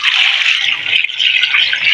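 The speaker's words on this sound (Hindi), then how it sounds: "मैंने 1 जग इसमें पानी शामिल किया" Water from a jug pours steadily into a pot of boiled turnips, a continuous bright splashing gush that stays loud and even for the whole two seconds with no voices over it.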